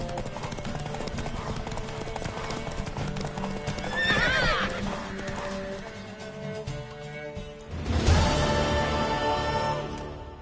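In The Witcher 3, hooves clip-clop steadily under a music-heavy game soundtrack, with a loud horse whinny rising near the middle and another sharp neigh later.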